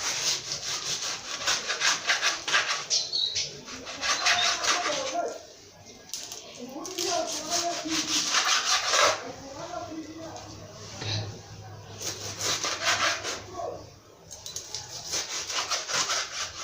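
Pork bone being cut into small pieces for a bar-style dish, heard as repeated rough rubbing, sawing strokes in bursts, close and moderately loud, with quieter pauses between.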